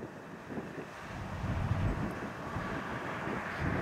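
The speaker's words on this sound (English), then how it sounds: "It's really windy today in Iowa here." Strong 30-40 mph wind gusts in Iowa roar and buffet the microphone, a rough low rumble that swells and eases without pause.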